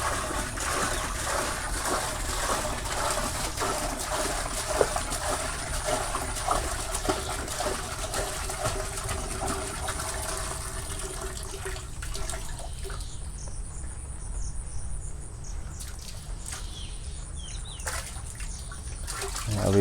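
Steady rush of pouring, splashing water being transferred into a tank at a shrimp farm runs for most of the clip, then thins out near the end, with faint chirps in the background.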